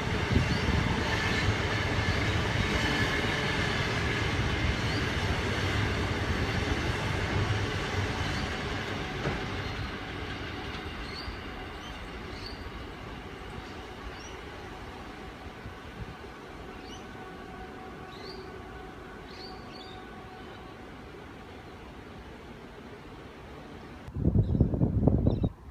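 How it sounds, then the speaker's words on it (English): Sydney Waratah electric train arriving at a suburban platform at Denistone, a steady rumble of wheels and motors that slowly eases off as it slows, ending with a brief louder burst near the end. "We have a Waratah arriving onto platform"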